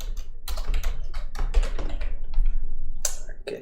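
Close, rapid typing on a computer keyboard: a loud, steady flurry of clattering keystrokes with a few pauses and sharper taps, recorded at a desk while writing Maya Python code.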